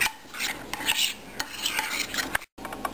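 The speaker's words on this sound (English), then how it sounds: "Here goes the egg. And I'm going to mix it, break it, mix it, incorporate it really well." An egg is whisked into a fish coating of lemon juice and spices in a bowl, with quick, uneven clinking and scraping strokes of a utensil close up.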